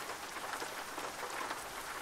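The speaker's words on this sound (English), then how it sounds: "Let's see if we can stop the rain." Steady rain in American Truck Simulator with the Montana DLC, a constant broadband hiss of drops falling on a surface, even and unbroken throughout with no talking.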